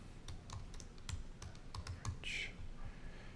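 Fingers type quickly on a computer keyboard while writing code, a close, uneven run of light key clicks and taps with small pauses between bursts, heard alone without talk.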